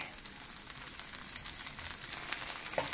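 Ragi (finger millet) dosa batter sizzling in oil on a hot griddle, a steady close crackling hiss with small pops throughout, no voices.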